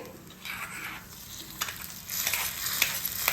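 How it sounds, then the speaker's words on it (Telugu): A burst of hot oil sizzling as a spice tempering is poured into rasam, with the crackle swelling and hissing for a few seconds. "ఇప్పుడు మనం తాలింపు వేసుకుందాం"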